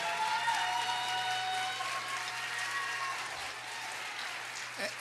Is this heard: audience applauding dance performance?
yes